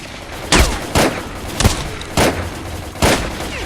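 Five sharp gunshots crack out at roughly even intervals while mercenaries are gunned down in a video game, each blast loud and broadband over a steady background hum, with no talking.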